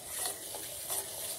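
Milk tea made with pure cow's milk and water heats in a pot while a spoon stirs it, giving a faint, soft scraping swish over a low simmer for a brief moment.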